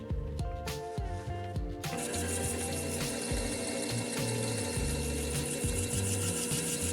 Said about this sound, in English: Cutting the crown here. Got my 600 Crystalite diamond lap on the machine